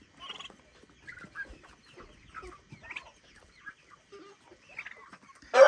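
A hen clucks softly in short, scattered bursts, with faint high chick peeps mixed in, fairly close and quiet overall.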